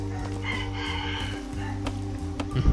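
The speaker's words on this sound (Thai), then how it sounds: "เช้าแล้วได้ยินเสียงไก่ขันไหมทุกคน" A rooster crows in the game Craft The World over a steady background of game music and ambient tones, the call drawn out and fairly clear.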